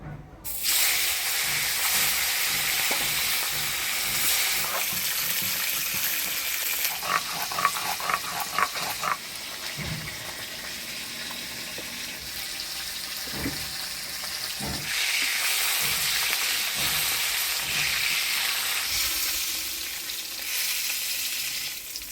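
Onions sizzle steadily in hot oil for a Bengali rohu fish curry with potatoes, with a dense continuous frying hiss and occasional stirring clatter, close and fairly loud, without speech.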